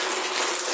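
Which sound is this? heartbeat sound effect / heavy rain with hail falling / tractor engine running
heavy rain with hail falling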